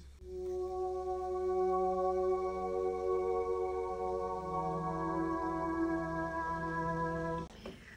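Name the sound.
Piano Colors preset with RC20 reverb and EQ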